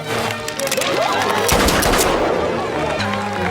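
Revolver gunfire at a public shooting exhibition, heard as a loud, dense run of sharp cracks with a strong burst near the middle, set against a busy, crowded background.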